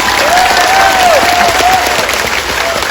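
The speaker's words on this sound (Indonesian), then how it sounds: "Kurang kencang, tepuk tangan." A louder, sustained round of crowd applause at an Islamic sholawat gathering in a Taichung park in Taiwan, dense continuous clapping with a faint voice tone gliding over it and light cheering.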